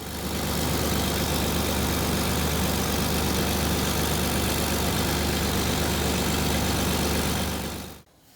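A Land Rover engine idles with a cracked exhaust crossover pipe, giving a loud, steady, close rumble with a raspy broadband hiss that cuts off abruptly near the end.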